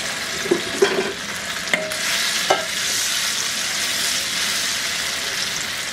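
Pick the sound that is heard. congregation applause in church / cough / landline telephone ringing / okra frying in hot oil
okra frying in hot oil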